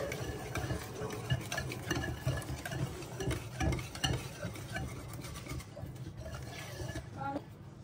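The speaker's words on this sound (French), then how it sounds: "Je rajoute l'autre quantité de farine et je mélange." Flour being stirred into cake batter in a bowl, with a steady run of soft, close scraping and mixing strokes that ease off toward the end.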